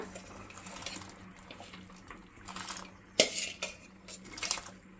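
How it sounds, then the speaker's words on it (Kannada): Toor dal tipped into boiling water in a pot, heard as scattered clinks and clanks of metal utensils against the pot with a soft watery bubbling between them, no talking. "ಇವಾಗ ತೊಗರಿಬೇಳೆ ತೊಗೊಂಡಿದ್ನಲ್ಲ ಅದನ್ನು ಸೇರಿಸ್ಕೊಳ್ಳೋಣ"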